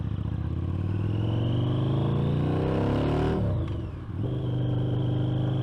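A custom Harley-Davidson V-Rod Night Rod with a 330 rear tire rides past, its loud, steady engine drone rising in pitch before dipping briefly and then settling back to a strong, even rumble.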